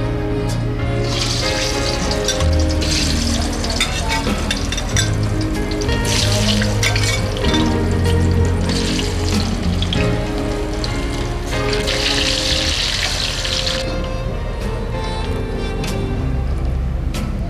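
Food frying in hot oil in a kitchen, a steady broadband sizzle and bubbling that runs without a break under music, with no talk.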